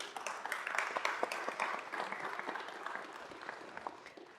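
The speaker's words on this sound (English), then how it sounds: "Can we give a round of applause to his alum too?" Applause from a city council meeting audience honoring a group of alumni, a fairly soft, steady patter of many hands clapping for several seconds with a faint murmur underneath.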